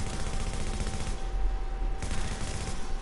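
Steady automatic AK rifle fire in The Division, a continuous rattling stream of close, loud shots with strong recoil thumps running through the whole stretch.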